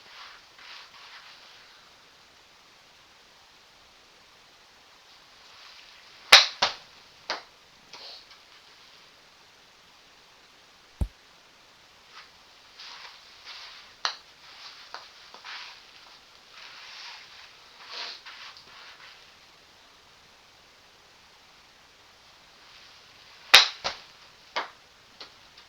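Golf club strikes on balls in an indoor garage simulator, a few sharp isolated cracks spaced irregularly, with faint shuffling and rustle between swings and no talking.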